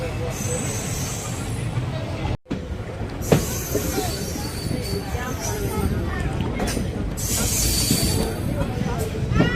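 A passenger train pulls out of Akkaraipatti station on the Madurai–Coimbatore run, with rumbling wheels, rattling carriages and occasional metallic squeals filling the whole stretch, loud and close from on board, with a brief dropout partway through and voices mixed in.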